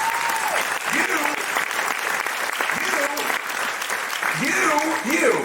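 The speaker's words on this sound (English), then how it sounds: "That's right, you clap for that." An audience claps steadily in a lecture hall, a dense even patter under a voice speaking over it throughout.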